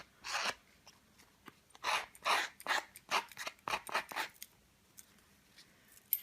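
Scissors snip and rasp along the edges of damp paper to rough them up, a run of close, crisp cutting sounds in irregular bursts separated by short quiet gaps.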